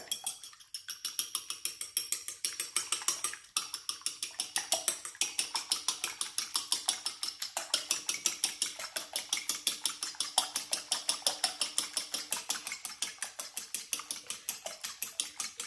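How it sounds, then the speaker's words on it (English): Ingredients mixed with a splash of milk in a bowl, a utensil scraping and clinking against the bowl in a steady, fast rhythm that continues nearly throughout, close and fairly quiet. "we're just going to mix that all together"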